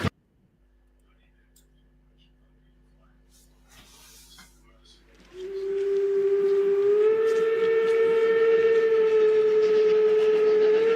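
After a few seconds of quiet rattling and clicks, a loud, sustained steam train whistle blares in with a rich harmonic tone, rising slightly in pitch and holding steady.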